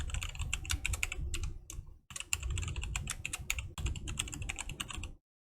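Rapid keystrokes on a computer keyboard as a new password is entered, a close, steady clatter of typing with a brief pause midway before it stops.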